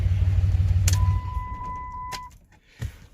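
A 2006 Dodge 2500 truck's Cummins diesel engine is shut off: a loud low idle rumble runs for about a second, then cuts out and fades into quiet, with a steady electronic chime tone and a few clicks and clunks after.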